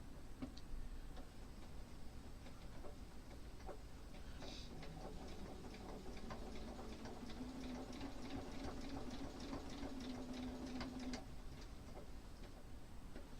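A sewing machine machine-quilting a quilt stitches in a fast, steady ticking rhythm, close and continuous, with a faint motor whine under the stitching and no talking.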